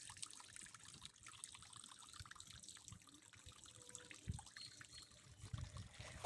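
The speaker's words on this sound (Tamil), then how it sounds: "மேலே அங்கேருந்து வருது தண்ணி." Water trickles faintly and steadily from above into a storage tank at an ancient Murugan temple, a quiet continuous dribble with small splashy drips and no talking.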